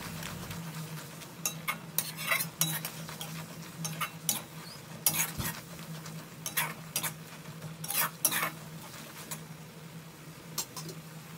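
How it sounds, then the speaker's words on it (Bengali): Masala with Kashmiri red chilli powder being stir-fried for a shrimp dish, with repeated sharp scrapes and clinks of a spatula in the pan over a low, steady sizzle, no voices. "মশলা দেওয়ার পরে ভালো করে কষে নেব।"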